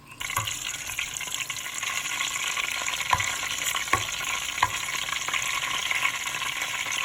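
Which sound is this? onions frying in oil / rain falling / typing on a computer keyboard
onions frying in oil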